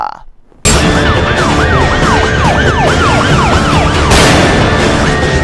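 An ambulance siren wails loud and close in a rapid rising-and-falling yelp, cycling steadily for about five seconds without pause.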